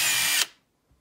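A power drill drilling into a Fender electric guitar body, fitting a Floyd Rose tremolo, whines at high speed for a short burst, then winds down abruptly into silence, followed by a faint soft knock.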